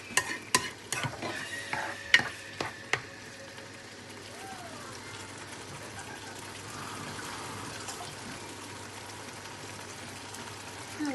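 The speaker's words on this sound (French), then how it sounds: "Je vais rajouter un peu d'eau pour faire cuire la tomate." Tomato cooking in a pan with added water: a few sharp utensil knocks at first, then a steady low simmering sizzle and bubbling, close and moderately quiet.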